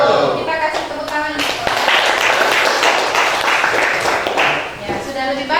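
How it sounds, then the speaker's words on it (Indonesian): Classroom audience applause swells into a steady, fairly loud clapping wash, with voices audible at the start and end. "Kita kasih tepuk tangan."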